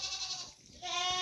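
A billy goat at a Kyrgyz farm where dairy goats and a cow are sold bleats twice in close succession, loud and near, with no talk over it.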